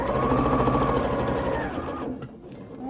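A sewing machine stitches fabric for a child's winter crown, running steadily and loud for about two seconds before slowing and quieting toward the end.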